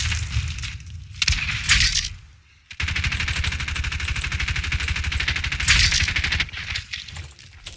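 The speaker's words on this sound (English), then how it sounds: "It's really easy to shoot somebody with a gun that has no recoil" Sustained rapid fire from a no-recoil gun in a Call of Duty match, loud and close, with a short burst, a brief pause, then a long unbroken stream of rattling shots.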